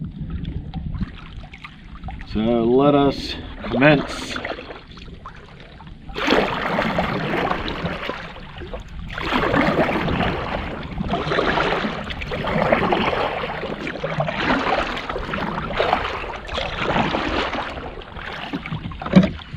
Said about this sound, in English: we are just going to start paddling back to the boat launch